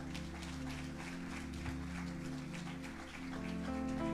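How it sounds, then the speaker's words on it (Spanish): Congregation applauding for Christ during an evangelical church service, steady dense clapping throughout with sustained musical tones underneath. "Den un aplauso a Cristo."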